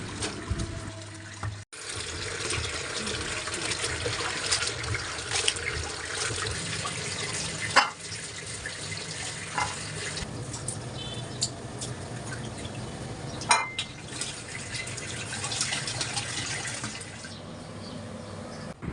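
Dried chapa shutki fish being washed by hand in water, giving steady close splashing and running-water sounds for the whole stretch, with a few sharper knocks and sloshes along the way and no talking.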